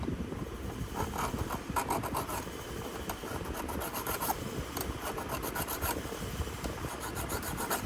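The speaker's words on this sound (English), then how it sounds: "So let's just file it down." A hand file rasps steadily against a smashed plastic part of an HPI Baja 5B RC car, in continuous close back-and-forth strokes at an even rhythm, with no talking.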